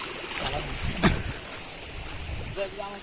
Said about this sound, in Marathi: पाण्याचा गेला नाला